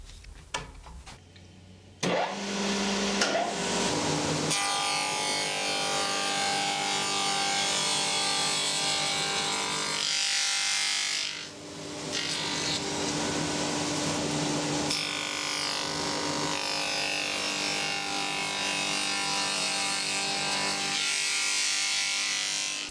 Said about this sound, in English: This is a tenon machine, which will make life a lot easier.